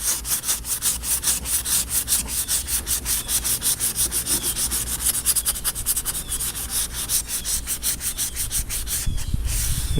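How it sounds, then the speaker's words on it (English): A Craftsman workbench being sanded by hand gives loud, rhythmic back-and-forth scrubbing strokes. The rasping is steady and close and carries on for the whole stretch, with no voices. "Go ahead and sand this and the front."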